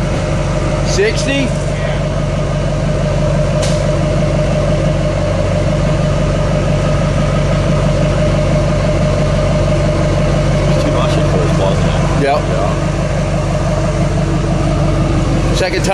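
A 2008 GMC 3500 pickup engine running on HHO, a steady loud rumbling drone that holds throughout with small irregular knocks and clatter on top.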